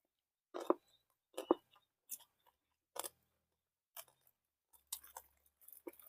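Crispy food being chewed in a backyard garden: sparse, quiet crunches arriving in separate bites with short silences between them, close to the microphone, with no talk.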